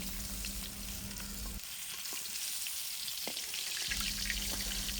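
Fish sizzles in hot frying oil, a steady, faint crackle heard alone from start to finish, with a low hum underneath that drops out briefly midway.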